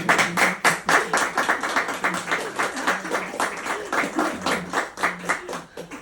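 A small group claps in a studio setting, a lively rhythmic round of applause with distinct individual hand claps sustained for several seconds, with a voice briefly heard underneath.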